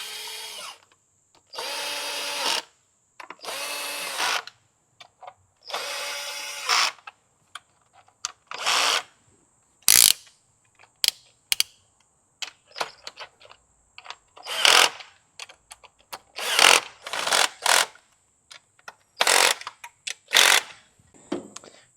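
Cylinder head bolts on a Nissan X-Trail QR25 engine being run in and tightened with a power tool, heard as a series of short loud whirring bursts separated by pauses and clicks.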